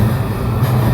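Interior of a JR Sobu Rapid Line E235 series train in motion, a loud steady low rumble of wheels and running gear with constant rail noise throughout, heard close from inside the car with no talk.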